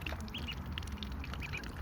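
Ducklings quacking and peeping in repeated short calls over a steady wash of splashing water as they drink and play, close and moderately loud.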